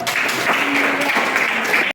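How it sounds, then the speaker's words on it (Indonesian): Students in a classroom clap together in a brief, dense burst that ends abruptly, with a faint voice tone underneath. "Kasih tepuk tangan dulu."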